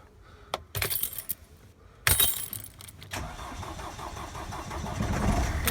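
A car engine with a flat battery is started without jump leads: clicks and clatter, then the engine catches with a loud burst and settles into a steady idle that runs to the end.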